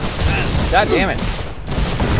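Rapid Gatling gun bursts in the Western video game GUN crackle loudly and continuously, with a brief shouted voice and other combat noise mixed in.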